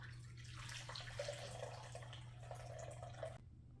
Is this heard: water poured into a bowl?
yes